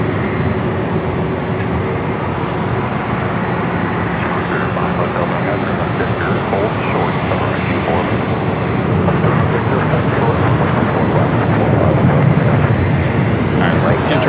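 An ANA airliner in Future Promise livery takes off at LAX, a loud steady jet roar filling the whole stretch and building slightly toward the end, with voices talking over it.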